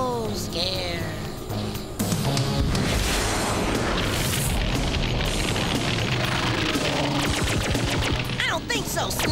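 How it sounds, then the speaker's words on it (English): A cartoon laser cannon fires in dense, loud bursts of booming, crackling blasts that continue without pause, with a voice speaking briefly over the start. "Ho-hum, the laser cannon again."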